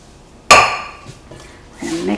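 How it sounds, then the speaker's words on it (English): A single sharp clink of a utensil against a bowl rings out as apples are tossed with caramel sauce, followed by faint scraping and a short burst of speech. "We're gonna mix this up, toss to coat"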